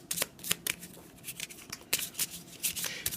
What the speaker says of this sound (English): We're going to shuffle these cards together to create the full deck of cards